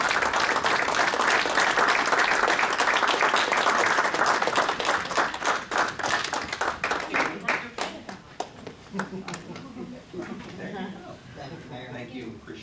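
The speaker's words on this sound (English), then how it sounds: "everybody give him a round of applause" Applause from the audience at a city board of works meeting as an honoree comes up for a plaque, a full burst of clapping that thins to separate sharp claps and tapers away, with talk beginning underneath.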